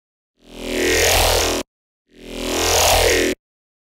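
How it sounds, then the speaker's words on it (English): A synthesizer tone dirtied with overdrive plays as two sustained, gritty, harmonically dense notes of about a second each, with a short silent gap between them and no talking. "I want to dirty up the sound by adding some overdrive to the signal."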